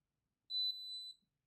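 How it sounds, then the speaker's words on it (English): A single short electronic beep from a tracer unit, high-pitched and steady, lasting under a second in otherwise quiet surroundings. "it's going to beep like that"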